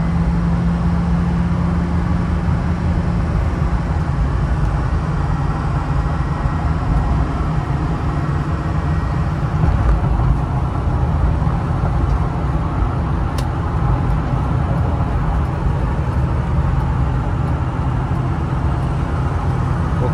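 A 2006 Ford F-350 FX4 Lariat with a 6.0L Powerstroke diesel accelerates at part throttle, its engine drone and road rumble steady and loud from inside the cab, with slight shifts in tone as it changes gears.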